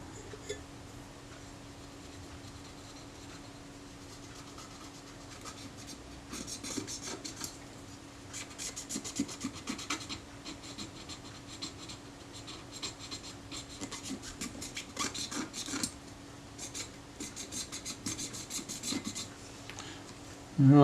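Corrosion is scraped off the metal of a Kodak Retina IIS 35mm film camera with the back edge of a scalpel blade, a close, quiet rasping in short irregular bursts that grows busier partway through, with no talking.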